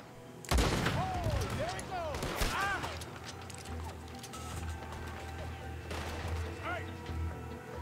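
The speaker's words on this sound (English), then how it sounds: "Shooting." Gunfire in Red Dead Redemption 2, with a sharp burst of shots followed by scattered rifle cracks over the rumble of the game, and a voice talking through part of it.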